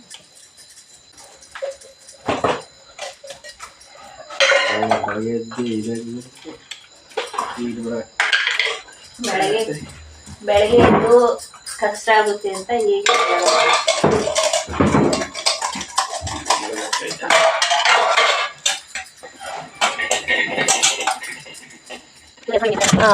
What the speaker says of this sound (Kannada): ನಾನು ಮನೆ ಈ ಥರ ಪಾತ್ರೆ ವಾಶ್ ಮಾಡೋದು